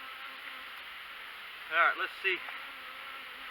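Honey bees in an open beehive give a steady, close, droning buzz throughout, while a person briefly speaks over it.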